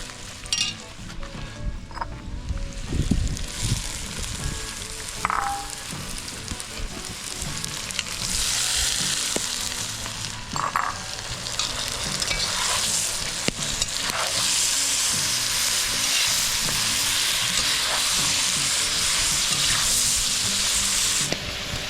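Chopped onion and carrot fry in a pan with tomato and pepper for a pork bograch, giving a loud, steady sizzle that runs throughout with occasional scraping stir strokes and no voices.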